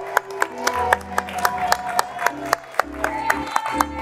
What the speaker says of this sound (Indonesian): Boleh kita berikan tepuk tangan buat Raffi.